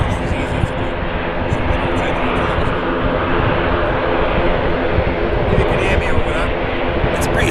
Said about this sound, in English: It's pretty loud for a little plane. Loganair ATR 42.